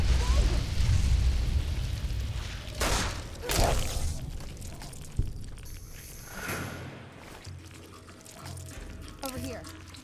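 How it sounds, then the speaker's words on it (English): Explosions in the Fallout: New Vegas video game, a few sharp bursts and booming blasts over a rumbling low background, with a voice speaking in between. "Mind the explosion!"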